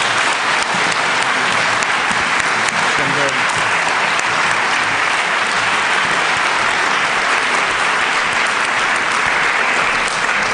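Sustained, loud applause from an audience honoring outstanding graduates and their faculty mentors at a university ceremony, dense clapping steady throughout with some voices mixed in.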